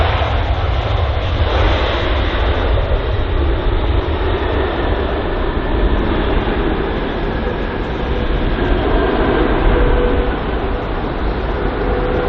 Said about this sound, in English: Just inbound there is the British Airways 787-9 Dreamliner, arriving from Mexico City